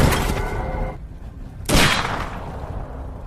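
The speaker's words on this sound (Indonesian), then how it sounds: "tiba-tiba dari belakang Striker menembaki Logan dengan peluru adamantium tepat di kepala Logan" Gunfire in a film scene as a man shoots adamantium bullets from behind, a loud sustained crackling burst, a brief lull, then a sharp heavy blast with a decaying tail.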